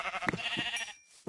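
A video-game sheep bleats briefly and shakily, close and clear, with short clicks before and after.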